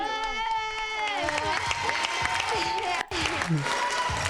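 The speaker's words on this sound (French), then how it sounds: "On peut les applaudir." A French TV studio audience at a 1992 children's video game quiz show applauds the winners, bright clapping and children's cheers joined by a voice speaking over the applause, loud and continuous throughout.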